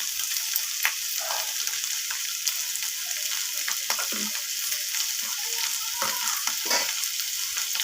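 Soybean chunks with ginger paste and salt sizzle steadily in a hot pan, loud and close, with scattered scrapes and clacks as the mixture is stirred throughout; no voices.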